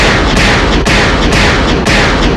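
Gunfire from the 1973 film Magnum Force: loud, dense, overlapping blasts with sharp repeated reports, roughly a few per second, filling the whole stretch.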